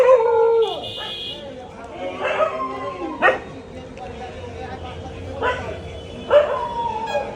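Dogs bark and yelp in short bursts on a street in Bongaon, several sharp barks spaced across the few seconds, fairly close, with a voice heard between them.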